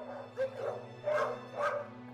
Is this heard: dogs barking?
yes